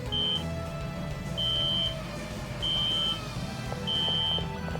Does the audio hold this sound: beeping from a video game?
yes